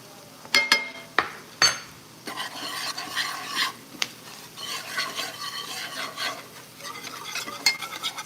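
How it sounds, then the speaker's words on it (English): A seasoned flour mixture with beef broth is stirred in a pot, giving repeated scraping, rasping strokes with a few sharp clinks of the utensil against the pot, close and steady over a faint sizzle. "Stirring, mixing."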